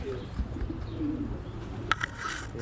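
Pigeons kept at a village farm coo in low, rolling murmurs that carry steadily through the clip, with a sharper bird call or two near the end, against an outdoor background and no talk.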